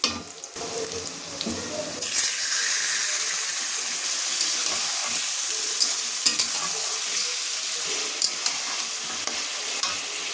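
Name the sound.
meat frying in pan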